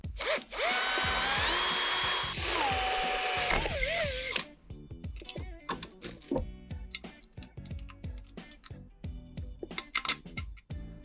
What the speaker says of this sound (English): I'll drill that through there, and then I'll bolt it through just with like a standard bolt